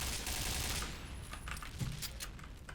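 Rapid bursts of automatic gunfire from a video game deathmatch crackle steadily throughout, dense and sharp with overlapping shots and no talk.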